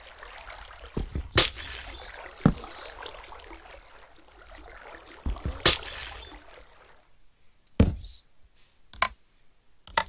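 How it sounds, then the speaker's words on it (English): Glass blocks are smashed one after another in a video game, giving a few sharp, crisp shattering bursts spaced several seconds apart against a quiet background, with no voice. "I need to break all every single piece of this glass"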